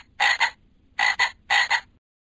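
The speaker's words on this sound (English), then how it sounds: "Frog." A frog croaks in three quick bursts, each a doubled rasping pulse, evenly spaced, close and clear against a quiet background.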